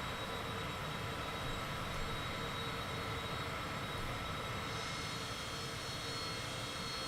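Airliner jet engines roar steadily during the climb after takeoff in Microsoft Flight Simulator, leaving Chicago Midway; a dense, constant broadband drone holds at even loudness throughout with no talking.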